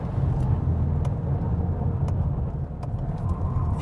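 A Volkswagen Golf R lapping a race track, its engine a steady, loud, low droning rumble heard from inside the car, with faint clicks and no talking.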